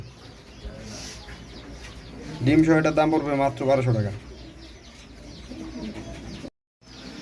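Sky-blue Gola pigeons coo in a loft, soft rounded calls swelling in the middle stretch before fading, mixed with other birds and someone speaking throughout.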